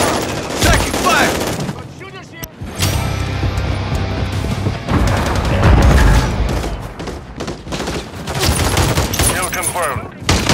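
Call of Duty multiplayer gunfire: loud, close automatic bursts and dense volleys with booming impacts, broken by brief pauses, while voices talk over the shooting.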